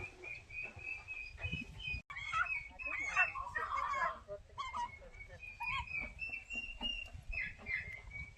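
A chicken clucking nearby on a farm during a Makar Sankranti festival, a run of agitated squawks and clucks with quieter background sounds and some faint voices.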